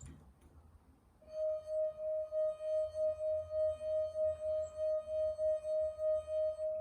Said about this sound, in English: The friction from your finger begins to oscillate the glass, and when you hit the natural frequency,